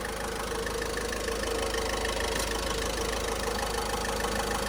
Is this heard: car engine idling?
yes